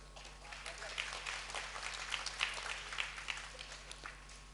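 Audience applause ripples through a hall during a religious discourse, a steady broadband patter of many hands clapping at moderate distance, with faint voices mixed in.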